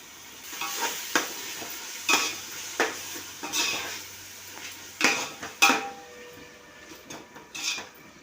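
Coconut paste and ginger paste frying in oil for mutton, a soft sizzle under repeated sharp clinks and scrapes of a utensil against the pan.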